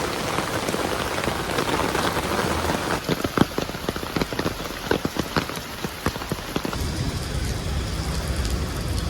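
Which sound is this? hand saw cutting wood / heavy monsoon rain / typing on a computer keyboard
heavy monsoon rain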